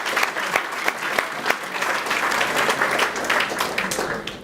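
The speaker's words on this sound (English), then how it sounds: "I think you deserve a real round of applause." Applause from a crowd at an awards event, steady clapping that fills the whole stretch without any talk.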